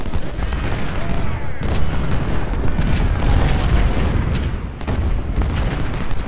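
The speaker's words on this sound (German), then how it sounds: "Gute Kanonen, weiter so Kanonen." Civil War cannons in Ultimate General: Civil War boom repeatedly through a dense, continuous battlefield din, with overlapping blasts and rolling rumble that stay loud and close throughout.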